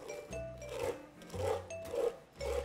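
A spoon scraping raspberry puree through a sieve into a bowl, rhythmic rasping strokes repeated about five times, close and fairly loud, with short pauses between strokes.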